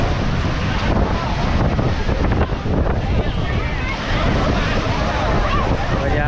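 Strong wind buffets the microphone over steady crashing surf at Doi Duong park beach in Phan Thiet, a loud, constant roar without pause.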